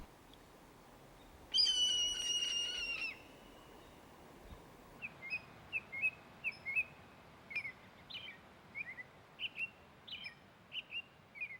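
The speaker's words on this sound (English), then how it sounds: "Birds that aren't usually full-time residents, like crows, hawks, and robins, are also early arrivals to the mountains." Birds call in the mountains in spring, with a sustained whistled trill early on followed by a steady series of short, sharp chirps repeating at regular intervals, fairly clear against a quiet background.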